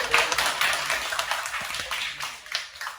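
Audience applause for a girl, a continuous patter of many hands clapping at moderate loudness from start to finish, with no talking over it.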